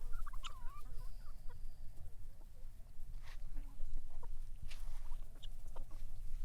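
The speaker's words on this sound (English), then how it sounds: "Crazy chickens." Several chickens cluck and chatter close by in short, irregular bursts over a low, steady rumble of background noise.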